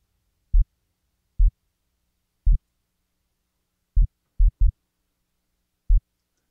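Seven isolated, deep sub-bass kick drum hits, each tuned and low-pass filtered, thud at an uneven pace with silence between them and no other sound.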